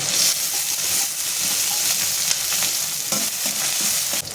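Onion, ginger, green chilli and garlic sizzle loudly in a pan while being stirred for shark fish puttu. The frying is steady and close, with scraping stir strokes, and no talking.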